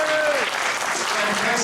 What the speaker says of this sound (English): A round of applause as they leave the stage.